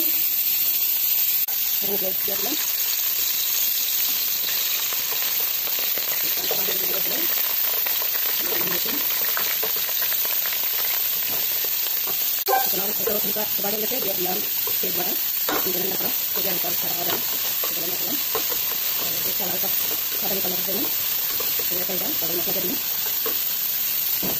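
Oil sizzles steadily in a cooking pot as onion, ginger and garlic fry for a tomato-and-potato fish curry, a close, continuous hiss with stirring scrapes, while a voice murmurs faintly underneath.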